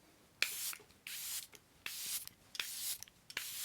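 A makeup setting spray gives several short, fairly loud bursts of fine mist in an irregular rhythm, each a brief airy hiss with quiet gaps between, and no talking.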